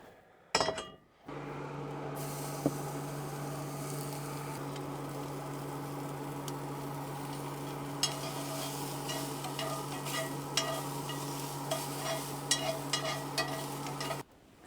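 Bacon frying in a pan inside an RV, a steady broadband sizzle running for most of the stretch after a brief drop near the start, with occasional light clinks and taps over a constant low hum.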